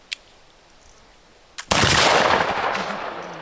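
A black powder gun fired by Revolutionary War reenactors: a small click and brief snap, then one loud close blast with a long rolling, smoky roar that fades slowly.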